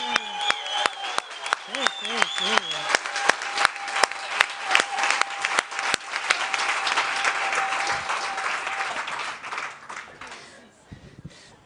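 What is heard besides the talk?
audience applauding loudly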